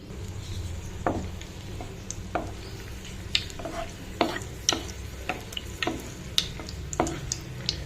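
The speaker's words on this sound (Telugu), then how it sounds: "ఆయిల్ వేసుకున్నాను ఫస్ట్ రెడ్ చిల్లీ వేసుకుందాం" Dried red chillies fry in hot oil in a kadai for an egg and fenugreek tamarind curry, giving a steady close sizzle broken by sharp clicks and taps of a spatula against the pan, with no talking.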